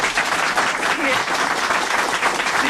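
A studio audience on a French comedy show claps and applauds for an applause-meter vote, a dense, steady wash of clapping that stays loud and close throughout, without a break.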